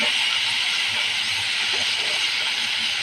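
Red chili powder and ground spices fry in a pan for a green bean and potato dish, giving a steady, close, uniform sizzling hiss that runs evenly for the whole few seconds with no voices.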